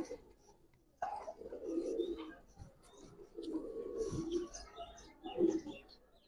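Giribaz pigeons, silver birds with fine feathers, give several low rolling coos in bursts with short pauses between, close and clear against a quiet background.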